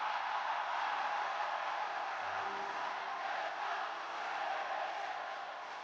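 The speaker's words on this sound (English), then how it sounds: "I hear the crowd more singing Randy than I did Cody." A distant arena crowd at a SmackDown wrestling show overseas chants and sings as a continuous, even roar, steady throughout without clear individual voices.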